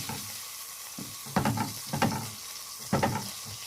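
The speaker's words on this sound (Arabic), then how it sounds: "هنحط كعبين او معلقتين الزبده، وهنحط معاهم كمان معلقه الزيت" Butter and a spoonful of oil heat in a small pan, giving a steady soft sizzle with a few louder clattering stirs or scrapes standing out, no talk over it.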